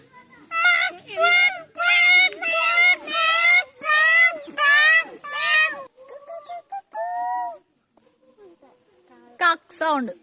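A young child imitates a duck with a series of about seven loud, nasal, quacking calls in quick rhythm, then a few softer cries and one more short call at the end.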